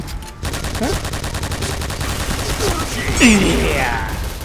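Rapid bursts of automatic gunfire from a light machine gun in the online shooter Point Blank, sounding continuously under game effects, with a short whoosh-like effect near the end.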